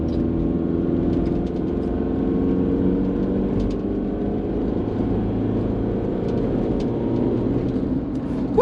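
Mitsubishi Pajero Gen 3 with a throttle controller set to race mode, engine droning steadily under load as it accelerates, heard from inside the cabin with a constant low rumble.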